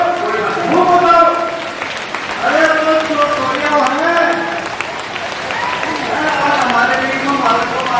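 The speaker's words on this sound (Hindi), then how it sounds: "भगवंत मान जी को एक बार ताली बजा दो, खड़े होकर बजा दो" A large crowd at an Aam Aadmi Party public rally in Bahadurgarh, Haryana, applauds in sustained, dense clapping that swells and carries on throughout, with a voice speaking over it.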